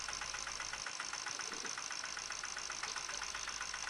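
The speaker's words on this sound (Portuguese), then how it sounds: "O meu pequeno trator é uma motoenxada com motor de 10 cavalos" A small 10 hp motor cultivator used as a tractor runs steadily outdoors, a close, buzzing engine drone with a rapid regular pulse and no talk.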